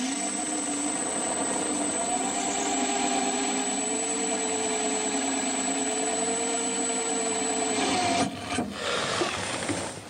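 An ARTU drill bit bores into ceramic tile with a steady, high grinding whine that holds for about eight seconds, then breaks into rougher, uneven scraping near the end.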